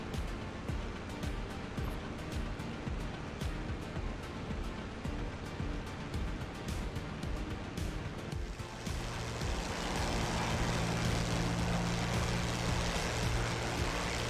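A P-51 Mustang's engine drones steadily in DCS World over the Normandy 1944 map, a dense rushing roar that holds throughout and brightens into a harsher, hissier tone partway through.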